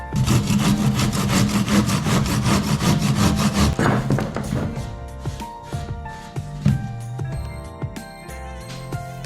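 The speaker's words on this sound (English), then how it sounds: "So I'm just going to cut it at this angle here, so it goes down there" Plaster coving being sawn at a mitre angle: a steady, loud run of rapid back-and-forth strokes for about four seconds, then a few scattered scrapes and knocks as the cut finishes.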